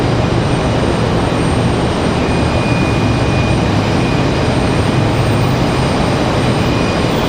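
An ATR turboprop airliner at Raleigh-Durham airport gives a loud, steady engine roar with a constant high whine, continuous and close throughout without any talk.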